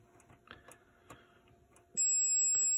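Continuity tester beeping on shorted transistor pins of a Williams Theatre of Magic pinball power driver board: scattered soft clicks and taps from probing, then a sudden loud, steady electronic tone that holds to the end.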